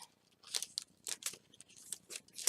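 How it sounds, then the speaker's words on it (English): Scissors snip through a thin, flimsy sheet of deco foil in a quick run of short, crisp cuts, close and fairly loud with brief gaps between strokes. "I'm going to cut me off a piece of this."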